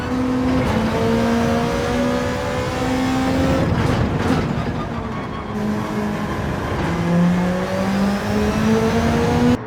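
A BMW race car in Gran Turismo 7's Manufacturers Cup at Deep Forest revs loudly, rising and falling through gear shifts over twisty sections with brief tire squeal and no voices.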